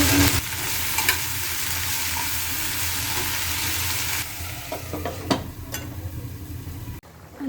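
Sliced okra fries in hot oil with salt, chili and turmeric, making a loud, steady sizzle with occasional stirring scrapes; the sound eases near the end and then cuts off abruptly.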